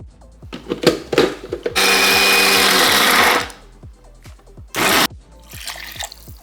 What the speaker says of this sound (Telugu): ఇప్పుడు దీన్ని గ్రైండ్ చేసుకుందాం